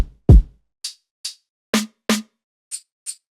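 A sequence of separate drum hits plays: a deep kick, then sharp hi-hats and two snappy snares spaced out in a sparse pattern.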